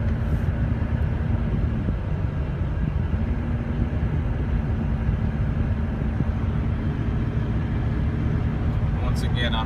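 Low, steady engine drone and road rumble inside a GMC Suburban diesel SUV cruising smoothly on the highway, constant and close with someone talking over it.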